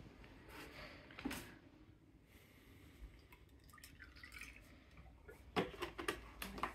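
Milk poured into a mug over a cookie, a soft liquid trickle with a few dripping splashes and brief clinks, growing louder toward the end, heard close and alone without talk.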